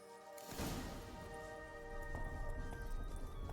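A horse gallops in The Witcher 3 video game, rapid close hoofbeats beginning abruptly after a short quiet and continuing steadily at moderate loudness.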